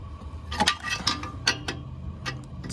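A wrench tightens the downstream oxygen sensor on a 2012 Ford Mustang V6, giving a few close, irregular ratcheting clicks and metallic scrapes over a few seconds.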